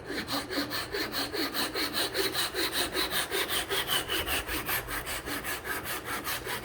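A table saw cuts a wooden piece for a three-way miter joint, giving a steady rhythmic rasping whir with regular pulses through the cut, close and continuous, with no voices.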